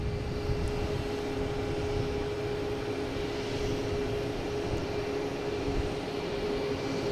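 A TAP Air Portugal Airbus A321neo takes off from Boston Logan, a steady, fairly distant jet roar with a droning engine tone and no sharp peaks.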